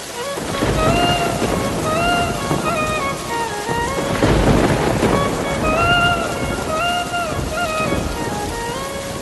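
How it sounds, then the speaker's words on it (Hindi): Heavy rain pours steadily with rolling thunder rumbling through a storm, a loud continuous wash of rain with deep booming swells, while faint tonal music sits underneath. "बारिश बहुत तेज हो जाती है"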